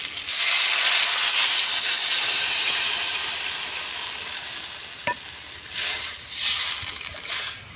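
Taro, already fried with potato, salt and turmeric, bursts into a loud steady hiss when water is poured into the pan, the sizzle slowly easing, with a sharp utensil knock and a few stirring surges near the end.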